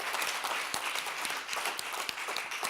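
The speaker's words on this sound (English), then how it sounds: "Please give them a huge round of applause." An audience at an innovation fellowship pitch final gives the judges a round of applause: continuous, fairly close clapping from a sizeable crowd with a few sharper individual claps standing out.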